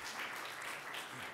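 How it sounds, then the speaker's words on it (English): Brief, soft applause from a small group, steady clapping heard at a distance. "we'll give you guys a clap"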